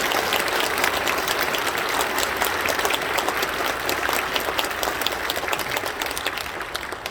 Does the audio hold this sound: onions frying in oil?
no